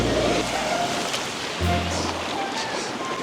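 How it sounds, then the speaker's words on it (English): Violent ocean waves crash on rocks at a resort in Los Cabos, a loud continuous roar and wash of surf with a low rumble surging partway through. "Those are pretty violent waves."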